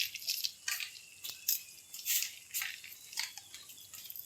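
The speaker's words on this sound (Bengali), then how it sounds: "জ্যান্ত জ্যান্ত পুঁটি মাছ, কই মাছ, চেং মাছ, দেখতে কি সুন্দর লাগছে। দেখুন মাছগুলো চটপট করছে।" Live puti, koi and cheng fish thrash in a shallow tub of water, throwing off a rapid, irregular run of close wet splashes, slaps and flicks with brief pauses between bursts and no voices.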